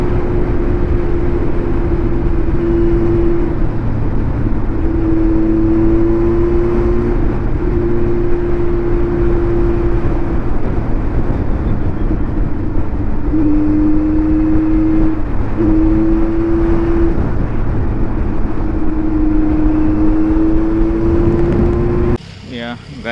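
A Honda CBR650F motorcycle with its dB killer removed drones loudly and steadily, its engine note rising in several repeated revs before cutting off near the end.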